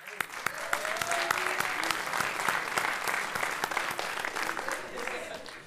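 Audience applause fills an amphitheatre at a military school commemoration honouring the Paul Éluard school group from Montreuil; steady dense clapping throughout with faint background voices.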